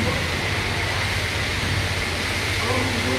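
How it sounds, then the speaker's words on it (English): Powerful car wash air dryer blowing as a steady, loud broadband roar that fills the whole clip without a break. "we got the air dryer."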